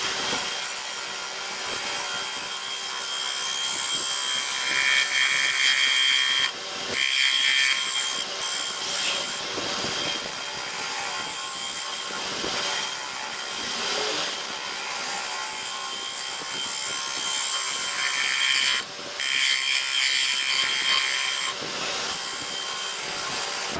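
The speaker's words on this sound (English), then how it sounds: "using my power sander, I went ahead and sanded that" A power sander whirs steadily against a striped wooden platter for a long stretch, with a harsh, gritty hiss and a few brief dips where it lifts off.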